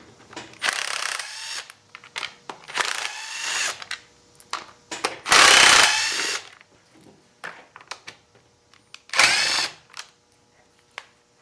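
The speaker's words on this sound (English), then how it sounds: "I'm going to use a T25 Torx socket with this Bosch impact." A Bosch impact driver with a T25 Torx socket backs screws out of a Craftsman chainsaw fan housing, giving several loud, close bursts of whirring and hammering separated by short pauses and small handling clicks, with no talking.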